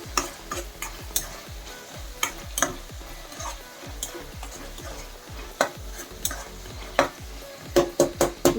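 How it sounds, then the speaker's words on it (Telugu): Tomatoes with curry leaves and ginger-garlic paste soften in hot oil in a pan while a spatula stirs them, giving steady rhythmic scraping and tapping over a soft sizzle, with a few sharper clinks near the end and no voices. "టమాటాలను బాగా మెత్తగా ఆయిల్లో మగ్గించుకోవాలండి"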